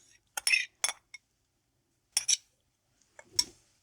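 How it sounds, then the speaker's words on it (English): A yardlong bean and tuna salad dressed with olive oil is tossed in a bowl, giving a few sparse, faint clinks of a utensil against the dish, separated by quiet pauses. "And mix everything well."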